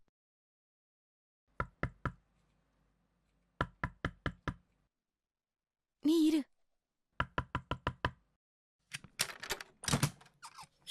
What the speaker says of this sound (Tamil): நான் தட்டுறேன் கதவை.